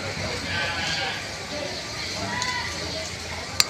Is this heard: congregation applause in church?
no